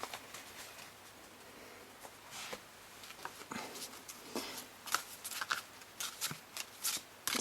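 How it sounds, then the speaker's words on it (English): Oversized oracle cards shuffled by hand, a quiet run of crisp riffling flicks that grows busier and denser toward the end, close and alone. "Let's have a shuffle."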